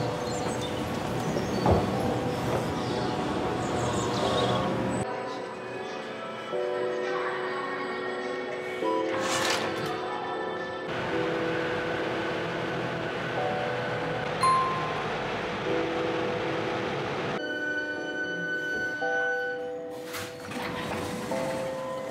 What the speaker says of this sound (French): Première étape, le métro.